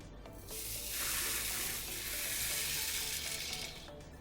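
Loud, steady sizzling of taco protein frying in a hot pan, a dense crackling hiss that swells in and holds for several seconds.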